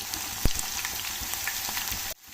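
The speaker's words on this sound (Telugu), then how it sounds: "ఆయిల్ అయితే వేసుకుందాము. అయితే వేడెక్కింది. ఇంకా ఆనియన్ అయితే వేసేసుకున్నాము." Onions frying in hot oil for chilli chicken, a dense steady sizzle with occasional pops and stirring clicks, close by, stopping abruptly near the end.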